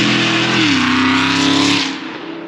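A Dodge Hellcat's engine revs loudly up close, a deep sustained growl whose pitch climbs and holds before the throttle lifts and the note drops away.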